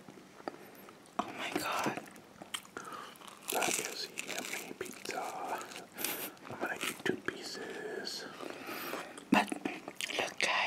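Close, crisp biting and wet chewing of a salty pizza topped with bacon and ham, with crunchy bites and mouth sounds repeating in uneven bursts while soft whispered talk runs through.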